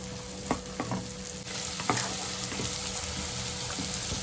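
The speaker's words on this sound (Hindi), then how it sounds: "प्याज बारीक चॉप किया हुआ, मीडियम साइज की 1 प्याज, उसको भी अच्छे से भून लूंगी।" Finely chopped onion frying with garlic in a pan for a chicken burrito filling, a quiet continuous sizzle broken by several sharp stirring scrapes and taps of a spoon, with no speech.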